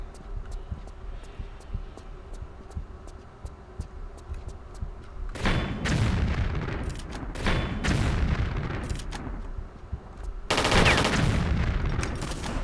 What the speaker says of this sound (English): Go blow up that turret.